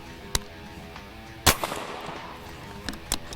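An airgun fired at a target, with sharp, close cracks spaced a second or more apart, one notably louder than the others, over a low steady background.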